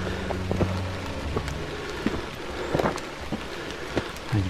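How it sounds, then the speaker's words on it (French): Steady rain pours down on a steep mountain trail in the Verdon, a dense continuous patter with scattered louder drops close by, no voices. "Il pleut en plus."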